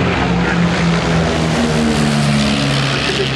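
A restored de Havilland Rapide propeller biplane at an air show drones steadily and loudly close by, its engine tone holding even and pitch shifting slightly throughout, with no talking.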